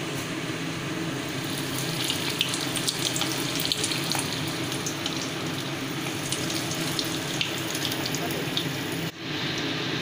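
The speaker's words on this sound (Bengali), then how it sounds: "আমার তেল ফুটে গেছে বন্ধুরা, এবার আমি বড়াগুলো ছেড়ে দেব" Katla fish fritters fry in hot oil with a loud, continuous sizzle and crackle, steady throughout until a brief dip near the end.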